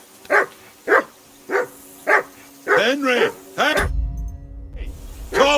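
A dog barks repeatedly in the video game Kingdom Come: Deliverance II, a few single barks and then a quick doubled burst, close and fairly loud, before a muffled rumbling thump and a last bark.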